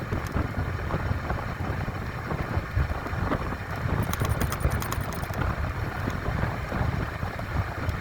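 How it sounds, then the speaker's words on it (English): Steady headwind buffets the microphone during a ride on a Bigniu BG-03 e-bike, a constant rough roar with a brief rattling patch midway. "Got a headwind coming today, so not the best conditions for an e-bike."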